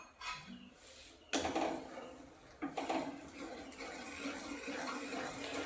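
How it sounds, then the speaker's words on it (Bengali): Stirring a spoonful of flour into boiling milk in a pot for mango kheer, with soft liquid sloshing and scraping against the pot in a few irregular bursts, close and moderately quiet, with no talking. "এর মধ্যে আমি 1 চামচ ময়দাগুলো মিশিয়ে দেবো"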